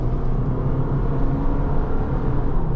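A lifted 2021 Subaru Forester being driven through turns, its steady engine and road drone a continuous low rumble with tire and wind noise, close and unbroken, with no voices.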